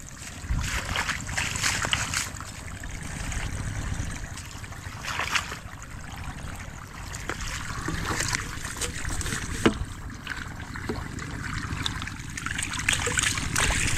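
Irrigation water trickling steadily among garden plants on a farm, a continuous close wash of flowing water with faint background sounds.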